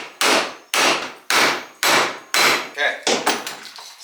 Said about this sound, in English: we're gonna hammer on the top of this and drive it in